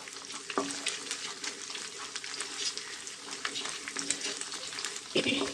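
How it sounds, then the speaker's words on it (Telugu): An egg sizzles steadily in a hot pan while cooking prawn biryani curry, a dense crackling hiss that runs throughout, with a couple of soft stirring scrapes and no talk. "మనకి ఎగ్ కొంచెం బాగా ఫ్రై అవ్వాలి"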